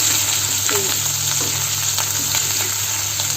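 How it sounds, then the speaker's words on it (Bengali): Taro root pieces sauté in a pan with ginger-garlic paste, a dense, steady close-up sizzle broken by light scraping stirs, with no talking. "আদা রসুনের পেস্ট সব দিয়ে দিচ্ছি, দিয়ে এখন কচুটা সুন্দর করে কষায় নেব"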